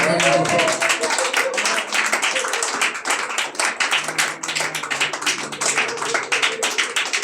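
A church congregation claps hands in praise, producing steady, loud, rapid clapping throughout, with voices and a speaker talking over it.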